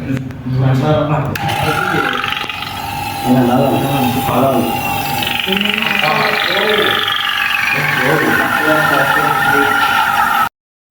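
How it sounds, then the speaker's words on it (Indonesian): Vacuum pump running to drain oil and freon from a car air-conditioning system, a steady mechanical hum with a rising whine, heard under ongoing talk before cutting off abruptly. "Selanjutnya kita akan menyalakan vakum untuk menguras oli dan freon."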